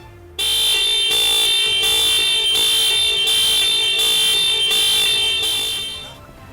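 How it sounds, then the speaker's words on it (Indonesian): A Mitsubishi Pajero Sport Dakar's anti-theft alarm buzzer blares loudly and continuously for several seconds with a faint pulsing, starting abruptly and fading slightly at the end. "maka buzzer bagian dalam akan berbunyi selama 10 detik dan selanjutnya alarm peringatan akan bekerja"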